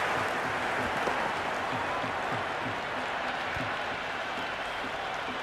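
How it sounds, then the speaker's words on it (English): Steady crowd cheer and applause from a virtual stadium audience in the Cricket 26 video game after a boundary four, a broad, constant roar filling the whole stretch without pause. "The crowd love that one."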